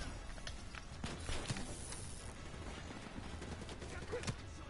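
Gunfire in the shooter Call of Duty Black Ops 3, a quiet, fairly distant scattering of shots and footsteps under low game ambience, with a voice speaking briefly.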